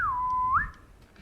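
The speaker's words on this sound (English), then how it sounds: "for Silver, giving a little whistle," A man gives a short whistle that slides down, holds a steady tone, then flicks upward briefly at the end, heard clearly on its own against a quiet background.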